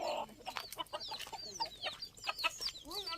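Chickens clucking close by in a rural yard, a busy run of short, rapid clucks and calls overlapping one another.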